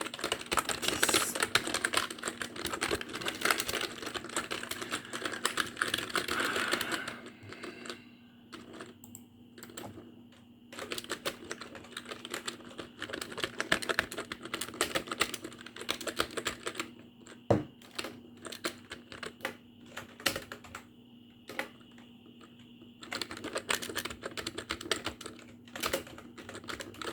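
Typing on a computer keyboard, with rapid, dense key clatter in long bursts broken by short pauses and occasional sharper key strikes, close and fairly loud throughout.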